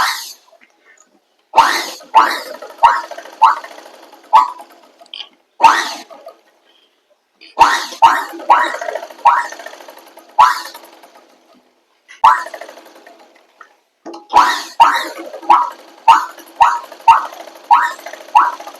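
A sewing machine stitches through a scrap of cloth to clear excess needle oil, running in short repeated rattling bursts separated by pauses, close and loud, with no talk.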